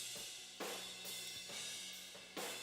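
Compressed snare drum picked up by a room mic with a fast attack setting, hitting about four times with a sharp crack over a dense, even, somewhat flat-sounding room wash.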